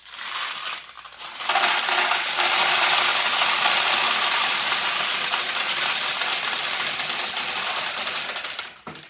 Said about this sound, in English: we'll just drop a bunch of them in